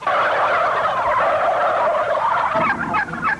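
Turkeys gobbling loudly and up close in a dense, overlapping chorus of rapid warbling calls that carries on without a break.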